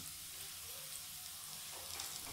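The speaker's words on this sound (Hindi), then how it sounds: "लहसुन को सौटे करेंगे" Chopped garlic sautéing in a small amount of oil in a pan, a soft, steady sizzle and crackle throughout, fairly quiet, with a few brighter pops near the end.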